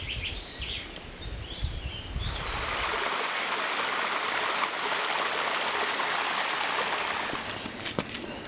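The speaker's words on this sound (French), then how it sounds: "Je passe par la cascade de la Doria, dont les eaux ont bien été gonflées par la pluie de ces dernières semaines" The Doria waterfall in Savoie, swollen by weeks of rain, roars as a steady, dense rush that grows louder partway through as it is approached, with faint birdsong earlier on.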